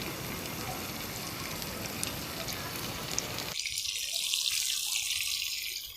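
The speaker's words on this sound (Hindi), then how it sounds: "चलें जी कबाब डालना शुरू करते हैं। ऑयल गरम हो चुका है।" Beef gola kababs dropped into hot oil on a tawa: a steady, close hiss of frying that jumps to a brighter, louder sizzle partway through as the kababs go in.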